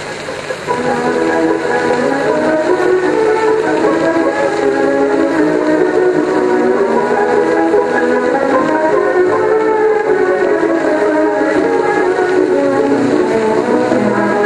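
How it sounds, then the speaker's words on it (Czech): The diesel engine of an M131.1 railcar climbs steadily in revs as the train gets moving, a loud, continuous droning rumble with shifting tones heard from inside the vehicle. "přidáváme paliva tak dlouho, až se motor rozběhne na otáčky, které odpovídají zasunuté rychlosti."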